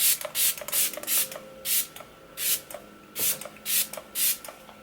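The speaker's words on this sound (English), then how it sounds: "I'm now going to just spritz over a little bit of MAC Fix Plus just to settle all the powders down into my skin." MAC Fix Plus setting spray is misted over makeup in a rapid series of short, close hissing spritzes, roughly a dozen puffs coming in uneven clusters.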